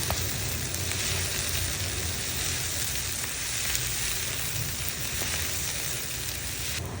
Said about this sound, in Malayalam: ഇനി ഇതെല്ലാം കൂടി ചേർത്ത് വീണ്ടും നന്നായിട്ടൊന്ന് ഇളക്കി കൊടുക്കാം